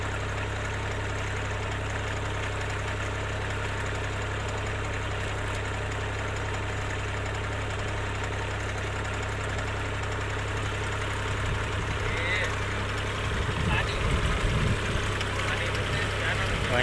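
A rice transplanting machine's engine idles steadily throughout with a low, constant hum, growing a little busier near the end; people talk nearby over it.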